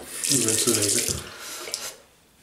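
Tap water splashes onto a puck of Midnight and Two Provence shaving soap for about two seconds, a close, steady rush that tails off into quiet.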